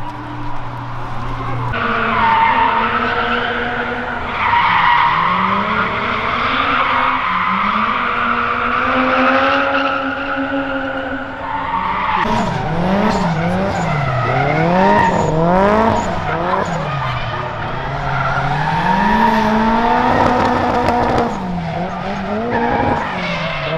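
Drift cars at a Caffeine and Octane pop-up drift event skid around the course, their tires squealing in long wavering howls over steady engine roar, close and loud throughout.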